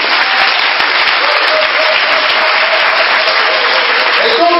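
A church congregation breaks into loud, dense applause acclaiming Jesus, a steady wash of many hands clapping throughout, with no gaps.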